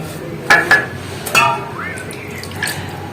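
Stone pestle or spatula scraping ground spice paste off a Bengali shil grinding stone for katla fish bhapa, a few short close clinks and scrapes, then a faint watery swish.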